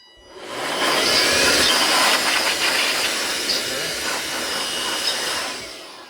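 A Bauer cordless workshop blower whirs up to full speed and runs as a loud, steady high-pitched rushing hiss close by for several seconds before winding down at the end.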